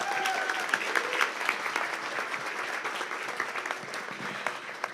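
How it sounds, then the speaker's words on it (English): Audience applause at a community charity breakfast, a continuous, moderately loud round of clapping from a crowded room, with no talking over it. "how about another round of applause for our Master of Ceremonies, Dana Marshall."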